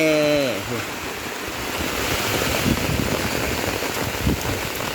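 Heavy storm rain in Laos pours down steadily in a dense, loud hiss with gusting wind, after a brief tonal sound at the start.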